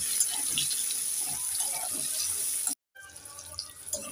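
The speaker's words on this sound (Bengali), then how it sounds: "একটু নেড়ে চেড়ে 1 মিনিট আমড়াগুলোকে ভেজে নেব" Crushed hog plums (amra) stirred and fried in a pan for a Bengali puti fish sour dish, giving a steady broadband hiss and sizzle with faint scraping, briefly cut off near the end before the frying noise resumes.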